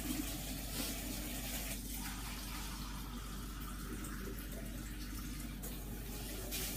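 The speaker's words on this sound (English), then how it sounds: "you can just hear it's just getting water directly from the tap" Water runs steadily from a kitchen tap while filling a container for carrot cake batter, a constant rushing stream close by with no talking.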